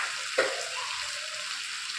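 Water poured into hot oil in a pan while cooking white chicken, giving a sharp splash and burst of sizzling that settles into a steady, fairly close hiss.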